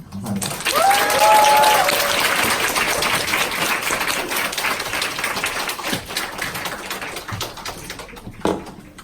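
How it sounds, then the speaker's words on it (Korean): An audience applauds at a Korean Nu Skin business event, a full round of clapping that swells and then trails off over several seconds, with a few chirps near the start and some talk underneath. "이재영 사장님께 큰 박수 부탁드리겠습니다"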